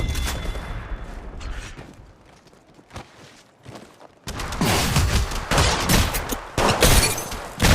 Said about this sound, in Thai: มีการยิงแล้วก็โดนทับ